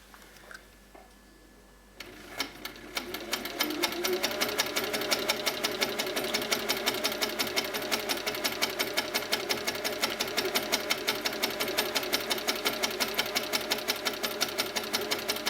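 An HQ Sweet Sixteen longarm quilting machine stitches along a ruler, starting with a quiet pause and then running steadily with a fast, even rhythmic clatter that stays close and loud.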